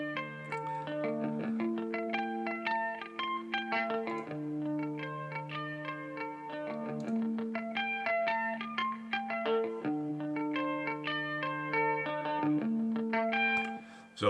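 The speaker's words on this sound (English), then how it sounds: "I'm running those through the harmonizer. Which in turn then runs back through the reverb." Layered, synthetic-sounding guitar notes repeat in a steady pattern, thickened by harmonized pitches and a wash of reverb that lets each note ring on.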